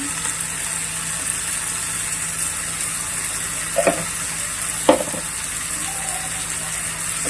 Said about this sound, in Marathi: आणि आता भाजी एकत्र हलवून घेऊया.